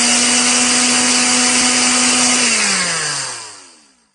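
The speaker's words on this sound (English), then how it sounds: "Tap on the red button to start the blender." A blender whirs loudly in a children's puzzle game, a steady high motor whine that holds, then drops in pitch and fades out as it winds down, with no talking.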